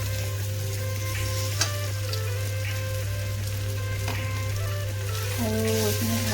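Potatoes frying in a pan with salt and spices, a dense crackling sizzle over a steady low hum, with a few scrapes and knocks of stirring, close by and no speech.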